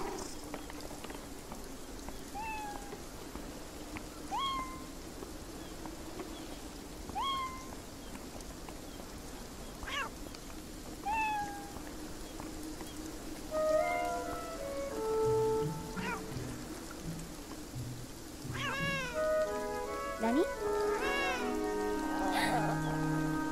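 Cats meow repeatedly in the video game Beyond Eyes, with several short, clear meows early on and more overlapping meows toward the end, set against steady rain and soft ambient background sound.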